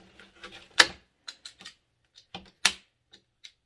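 Cutting all the way around a plastic Dollar Tree household item along its ridge, heard as sparse, sharp snipping clicks at irregular intervals, close and fairly quiet with silence between cuts.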